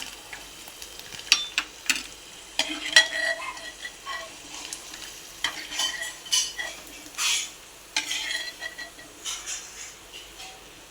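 Onions frying and being stirred in a pan for kande pohe, with a steady sizzle under intermittent scraping and clinks of a utensil against the pan, close up and without talk.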